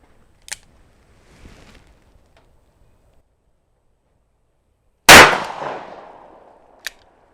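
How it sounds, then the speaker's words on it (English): A single shot from a Smith & Wesson Classic 686 revolver fired single action, one loud sharp crack with a ringing decay, preceded and followed by faint mechanical clicks. "I just want to see how I can shoot these different loadings here."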